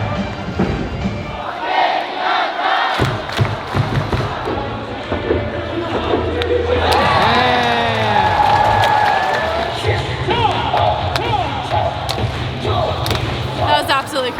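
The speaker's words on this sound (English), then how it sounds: "the crowd is wild on both sides" A large crowd at a Korean baseball game in Seoul, South Korea chants and cheers loudly, with rhythmic thumps, rising shouts and a sustained roar building in the middle, while people talk nearby.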